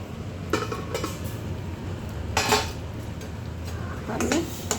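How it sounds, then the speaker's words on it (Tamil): A metal pot and lid clatter in a few short clinks and scrapes as a pot of banana flower kootu is covered to cook, against a steady background hiss. "இப்போ ஒரு பாத்திரம் வச்சு மூடி வச்சோம் வேகட்டும்"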